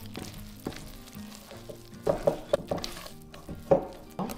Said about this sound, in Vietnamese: Sau đó thì mình sẽ trộn đều cho đến khi nào hết bột khô